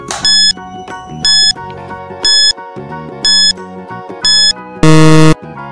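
Quiz countdown timer for a grade 4 science lesson: a steady electronic tune with bright beeping chimes repeating about once a second, ending in a louder, buzzy final tone.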